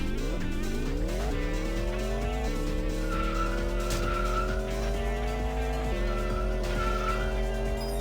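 Dodge Challenger in a DS racing game: an engine climbing through gear shifts with stepped rises in pitch, and a tire squeal cutting in over the steady synthesized motor drone.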